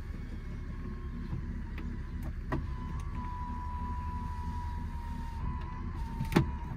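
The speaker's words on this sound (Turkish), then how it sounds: "Camları kapatalım." An electric power window motor on a BMW 320i E36 with a slipping, catching window hums steadily as the glass closes, a faint whine over low idling car rumble, ending with a sharp thunk as it seats.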